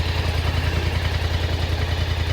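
A 2024 Polaris Highlifter 1000 UTV engine idles steadily, its deep, even, rapid pulsing sitting close and constant with no voices over it.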